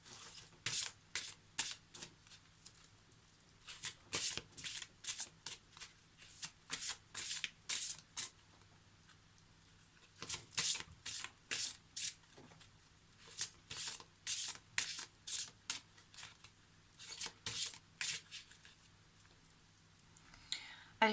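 Oracle cards for a card reading are shuffled by hand in repeated bursts of crisp riffling and sliding, close and soft, broken by short pauses over about twenty seconds, with occasional quiet talk.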